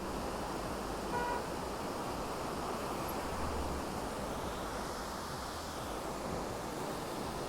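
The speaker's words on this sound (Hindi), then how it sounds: "It's such a huge waterfall." A huge waterfall, roughly 100 to 120 feet tall, on the road to Munnar in South India gives off a steady, dense roar that fills the whole stretch evenly without a break.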